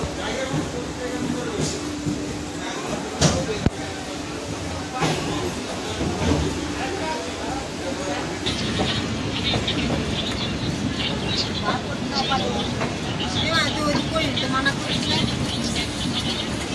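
Sealdah–Puri Duronto Express (22201) rolling out of Sealdah station, a steady broadband rumble of train motion with low hum throughout, growing denser after the midpoint, with voices talking over it.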